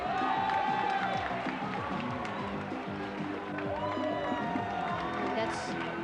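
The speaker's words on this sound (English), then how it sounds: "You can hear the crowd cheering, Ricky." Crowd at a 1995 world taekwondo championship in Manila roars and cheers for a fighter, a dense, loud arena wash with scattered claps and whistling voices throughout.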